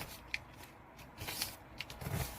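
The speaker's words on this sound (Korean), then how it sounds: "이 상태에서 한 번 더 접어주시는데요" Paper being folded into a Pokémon ddakji, heard as quiet, close crinkles and soft creases with a couple of sharper crisp rustles and a light press near the end, with no voices.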